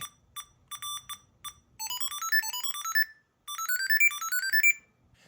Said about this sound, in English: you can simply go in to the SmartThings app or the Find app and make it ring